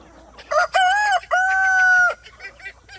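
A rooster among rare-breed chickens crows in two long, loud calls close by, followed by softer clucks and scattered fowl sounds in an otherwise quiet yard.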